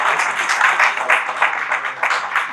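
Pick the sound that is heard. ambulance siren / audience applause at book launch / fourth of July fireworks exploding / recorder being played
audience applause at book launch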